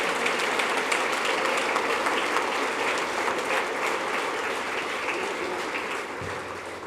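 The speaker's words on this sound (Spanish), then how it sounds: "Le den un aplauso al Señor." A church congregation claps steadily through a Spanish-language worship service, a dense, even wash of many hands that holds at the same level for several seconds and then eases slightly toward the end.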